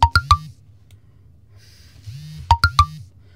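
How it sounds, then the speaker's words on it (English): Phone text message notification tones sound in two bursts of three quick bright beeps each, loud and close, separated by a quiet stretch with faint background hum. "Sorry, I got notifications."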